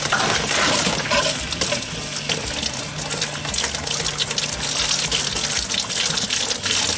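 Water gushes and splashes through a 1967 VW Bus body panel during rinsing, a loud, constant hissing spray with metallic spatter, close and continuous.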